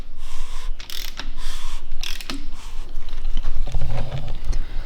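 A BMW M57N2 diesel engine from an E70 X5 35d with a broken timing chain is turned over by hand with a ratchet, a loud close sequence of clicking ratchet pawl and metallic mechanical clunks.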